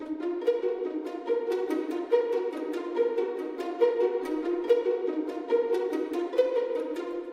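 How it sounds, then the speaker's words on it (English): Plucked pizzicato violins from the BBC Symphony Orchestra strings sound a steady run of short, bright notes in a regular rhythm, close and moderately loud, with no voices. "So the last thing I played was a pizzicato from BBC Symphony Orchestra"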